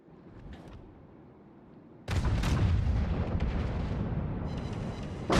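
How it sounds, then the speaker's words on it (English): Battleship main guns firing a broadside in World of Warships, a deep rumbling boom that erupts suddenly after a quieter stretch and rolls on loudly for a few seconds. "So, nice broadside Montana there, unfortunately not enough to sink her."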